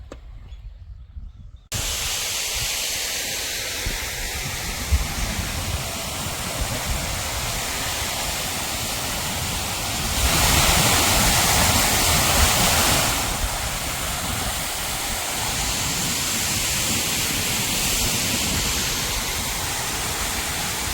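Water rushes loudly and continuously on a farm field near a village, a steady roaring flow that begins after a brief quiet moment, with no talking.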